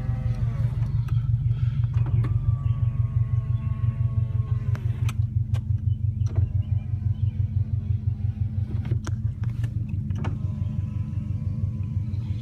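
A 2005 Subaru Impreza WRX STi idles with a steady low rumble throughout while its electric window motors whir several times in short runs, one after another.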